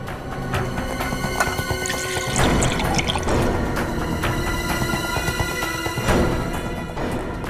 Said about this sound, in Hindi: विनीत जल्दी से पानी लेकर आओ